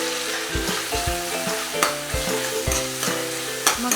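Onion, tomato and curry leaves fry in hot oil in a kadhai, a steady close sizzle with repeated scraping stir strokes and utensil knocks roughly every half second, no voices.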